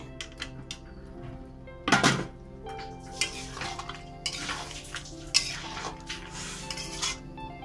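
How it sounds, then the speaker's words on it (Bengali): Fried eggs being stirred into a pot of egg biryani with potatoes, with metal utensils scraping and clinking against the pot, a sharp clatter early on and softer stirring knocks throughout, fairly quiet and close. "এবার আমি এই ভেজে রাখা যে ডিমগুলো ছিল সব আমি দিয়ে দিচ্ছি।"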